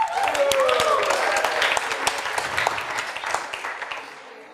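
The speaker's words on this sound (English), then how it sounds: "Let's have a round of applause for Gauranga on the Mridanga drum." A kirtan festival crowd in Rishikesh claps for the mridanga drummer, a steady wash of applause that slowly thins, with a sustained tonal voice or instrument sliding across it at the start.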